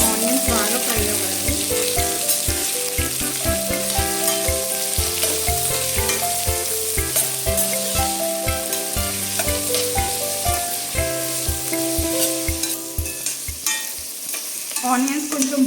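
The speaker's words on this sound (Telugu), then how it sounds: "ఆనియన్స్ బాగా ఫ్రై అవ్వాలి." Onions fry in a pan for paneer biryani: a loud, continuous sizzle with scraping stirs, close up, under steady background music.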